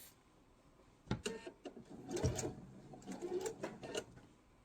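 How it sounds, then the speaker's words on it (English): A sewing machine stitches quilt binding off the edge of an unusual corner in short, uneven bursts of whirring with brief pauses, close and alone. "it doesn't matter if I sew off towards the point or if I sew off towards the back side. I just need to sew off."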